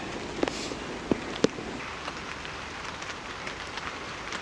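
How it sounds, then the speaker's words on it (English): Rain patters on a camping tarp during a storm while solo camping, a steady soft hiss with a few sharper individual drop taps standing out early on, no voices. "I think hearing rain on a tarp is one of my favourite things."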